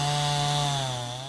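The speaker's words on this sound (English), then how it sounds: "to find a chainsaw not running today" A chainsaw runs steadily at high revs nearby while storm-damaged trees are cleared in Holmes County, a loud continuous whine that eases slightly at the end.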